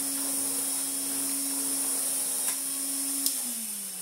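A restored 1980s Hoover Constellation 867a vacuum cleaner runs with a steady motor whine and airy hiss, two brief clicks near the end as the pitch drops slightly; no talking.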